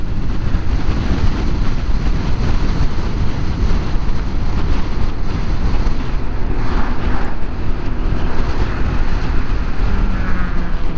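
A powerful motorcycle roars past on a motorway, heard as a loud, continuous engine rush smeared with heavy wind buffeting close to the microphone for the whole stretch.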